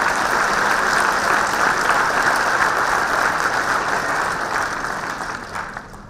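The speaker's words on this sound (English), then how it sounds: "Let's give them a round of applause for their good work." Graduation ceremony crowd gives a steady round of applause, dense even clapping at moderate volume that gradually tapers off toward the end.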